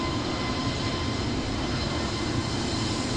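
Airbus A320neo engines at climb power in Microsoft Flight Simulator, a steady, loud broadband roar with a deep rumble that holds constant throughout, no voices.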